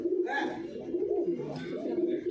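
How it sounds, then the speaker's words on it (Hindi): Cooing from a large white Punjab-bred show pigeon, a steady low throaty coo repeating throughout, close and fairly loud, with a brief voice in the background. "ये अपना बड़ा कबूतर है भाई चिट्टी वाला"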